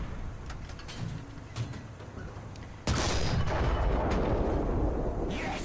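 A heavy tank cannon blast in the video game War Thunder, from a German KV-1 B 756(r), bursts in midway over a constant engine rumble, leaving a loud, noisy roar that lingers to the end.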